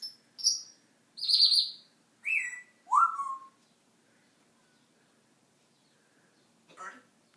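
An African grey parrot gives a handful of short chirps and whistles indoors in quick succession. A few seconds of near silence follow, then one last faint call.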